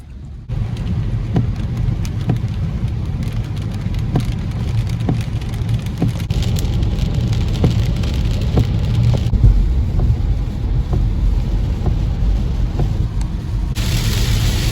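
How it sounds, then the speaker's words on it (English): A heavy downpour drums on a car roof and windshield, a loud close wash with scattered sharper drop hits, steady throughout with no talking. "there's a second heavy set of rain that came through"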